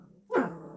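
A single sharp bark from Fluffy, a pet dog, close and loud, indoors, standing alone after a quiet moment.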